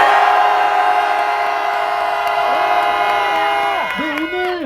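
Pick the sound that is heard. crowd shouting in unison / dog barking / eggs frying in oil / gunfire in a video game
crowd shouting in unison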